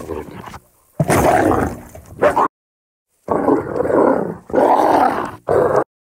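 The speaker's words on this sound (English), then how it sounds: "I'm going to search for some wolf sounds now, because we are dealing with a werewolf in this film." Wolf sound effects for a werewolf film play as several separate bursts of loud, close growling and snarling roars, each cut off by dead silence between them.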